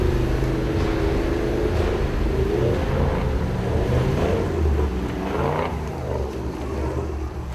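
An off-road vehicle's engine labours up a track, a steady close drone with rising and falling revs and rough rumbling underneath, continuous throughout.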